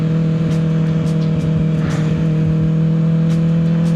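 A 2025 Kawasaki ZX6R motorcycle rides at night, its engine holding a steady, loud, close hum with constant wind noise and faint passing swells.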